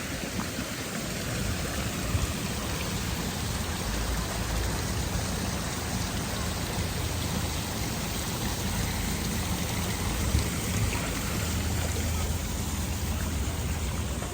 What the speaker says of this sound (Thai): อันนี้ก็เป็นน้ำตก นะครับ